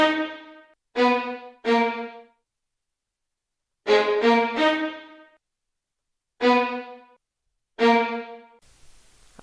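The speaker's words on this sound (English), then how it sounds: "I then followed up the pad with a second violin staccato from" Short, bright staccato violin notes from a Sonatina orchestra sample library, in small groups with pauses between, forming a sparse melody.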